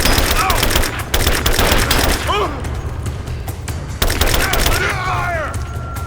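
Video game combat with dense gunfire: rapid bursts and single shots crack repeatedly over a loud, constant background, with some whooshing effects and brief voices mixed in.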